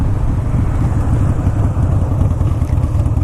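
Harley-Davidson Dyna Super Glide motorcycle out on the road, its engine a steady, loud, low rumble with gritty pulsing that holds level throughout, no voices over it.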